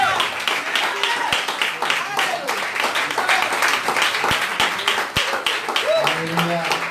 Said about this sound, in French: Merci d'avoir acclamé pour moi